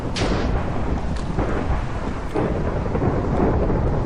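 A heavy thunderstorm in modded Minecraft rumbles continuously with dense rain noise, loud and steady throughout with no voices.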